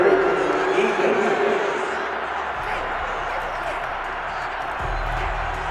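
Football stadium crowd at an NFL game between the Cowboys and Saints reacts angrily to a penalty flag on third down, a broad sustained roar of voices and jeers, loud and distant-filling, slowly easing but holding steady throughout.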